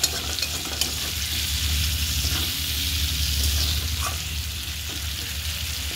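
Ridge gourd and bitter gourd fry in a hot pan, giving a steady, fairly loud broadband sizzle that holds evenly for the whole stretch, with faint scraping stirs and no talking.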